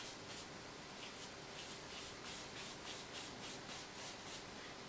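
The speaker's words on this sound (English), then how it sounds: "with a 1-inch brush and some white and maybe a little yellow, we can come right here and pull straight down" A 1-inch paint brush loaded with white and a little yellow strokes straight down on canvas, giving a steady series of soft, rhythmic bristle swishes close by, with no voices.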